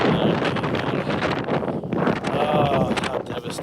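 Strong wind gusting outdoors around a hoop-style chicken coop under construction, a steady broadband roar of buffeting against the microphone that runs throughout with brief lulls, while a voice speaks over it.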